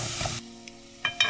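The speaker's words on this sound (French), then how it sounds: "Dans une casserole, je fais fondre un petit morceau de beurre. J'ajoute les pommes et la cannelle" Apples and cinnamon sizzle softly in melted butter in a saucepan, a quiet steady frying hiss with a couple of brief stirring scrapes.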